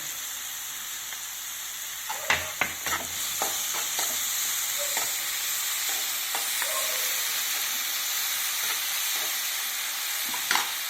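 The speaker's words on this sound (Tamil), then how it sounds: "க்ரீன் சில்லி, கொஞ்சம் சால்ட் போட்டுன்னா சீக்கிரம் வதக்கிடுவாங்க." Steady sizzle of green chilli, onion and salt sautéing in a hot pan for prawn fry, with a few sharp clicks and scrapes of stirring near the start and once at the end; no talking.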